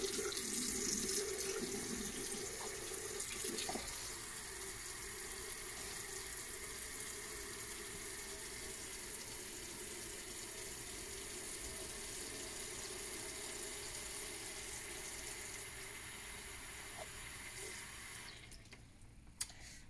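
Water runs steadily from a faucet during a partial bed bath, a continuous quiet hissing stream that holds for the whole stretch and ends abruptly near the close.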